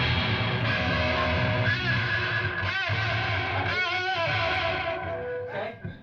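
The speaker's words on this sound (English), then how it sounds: "Got a lot of reverb going on here." Electric guitar drenched in heavy reverb and distortion plays during a live band set, with thick, sustained chords and washing echoes that fill the space continuously and loudly throughout.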